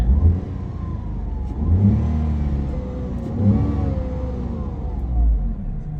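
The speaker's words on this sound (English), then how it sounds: "If I turn on the engine, there it roars to life." A 2024 Tata Tiago car engine catches and revs up several times, rising and falling in pitch, loud and close with no one talking.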